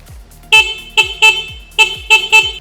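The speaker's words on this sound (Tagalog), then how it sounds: "ito naman po yung busina ni Storm X." A bright, loud electric motorcycle horn on an NXT Storm X beeps six times in short bursts, some paired close together, with small gaps in between.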